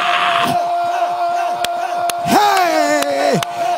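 Church congregation at an NSPPD service shouting together, a loud, sustained crowd roar with yells rising over a steady sustained tone and beat.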